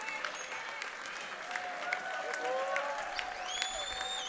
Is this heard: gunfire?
no